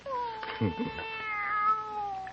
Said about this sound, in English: Nobody's going to hurt you, kitty, no.